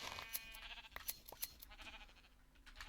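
Minecraft sheep bleat in several short, faint calls over a few seconds, with brief sharp game clicks between them and no talking.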